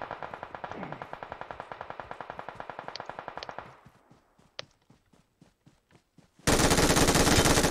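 Rapid automatic gunfire in PUBG Mobile rattles off in a long, even burst, then breaks into scattered single shots. A loud blast of noise follows at the end.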